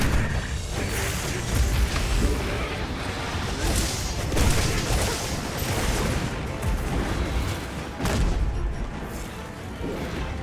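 Gunlance cannon attacks in Monster Hunter Wilds boom and crash in dense, repeated blasts amid clanking battle effects, loud and continuous throughout.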